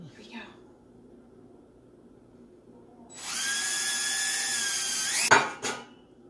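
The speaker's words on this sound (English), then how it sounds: "We're gonna get drilling." A power drill bores into an ice sun catcher outdoors, a steady loud whine holding for about two seconds before sharp bursts and a quick stop, with quiet background beforehand.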